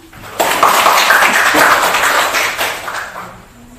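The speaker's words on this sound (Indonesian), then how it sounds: "Kasih tepuk tangan." Students clapping in a classroom after a group presentation, a burst of many hands that starts abruptly, holds steady and loud, then tapers off toward the end.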